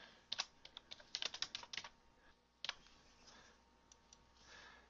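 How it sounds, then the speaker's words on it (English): Bursts of quick clicks from a computer keyboard being typed on, close and fairly quiet, with clustered keystrokes, short pauses and a few isolated taps toward the end. "So I simply type"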